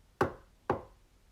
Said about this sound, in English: He raised his fist to the door in slow motion, paused, and knocked 3 times.